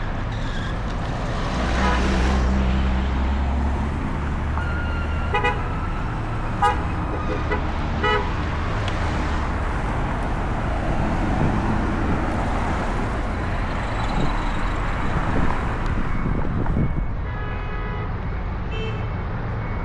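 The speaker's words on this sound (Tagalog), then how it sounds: "Maraming pa sasakyan. Hindi ba tayo makatawid?" Busy street traffic in Riyadh, Saudi Arabia: a continuous roar of passing cars punctuated by several short car-horn toots and one longer honk, near and fairly loud.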